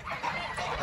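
Farm geese kept for fattening and down honk and cackle together close by in a short, busy burst with no talk.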